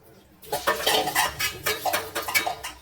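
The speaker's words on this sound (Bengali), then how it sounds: "এবার আমি এর মধ্যে চালটা দিয়ে দিচ্ছি" Washed rice pours into a pot of water that already holds potatoes for vegetarian khichuri, a close, busy rattling clatter that starts after a brief quiet and continues in uneven bursts.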